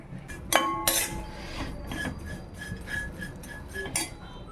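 Dried prawns roast in a hot frying pan, with a metal utensil clinking and scraping against the pan in scattered, fairly close taps over a quiet background.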